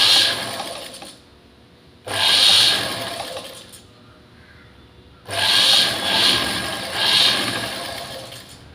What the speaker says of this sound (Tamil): எப்படி பாயிண்டாக உருட்டி தைக்கணும்.